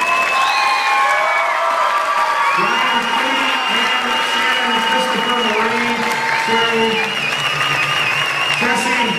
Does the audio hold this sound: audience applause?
yes